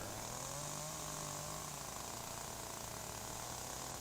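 Power tool grinding the oily hardwood log ends of a log cabin, a steady loud whine running throughout with a slight pitch drop early on, no voices.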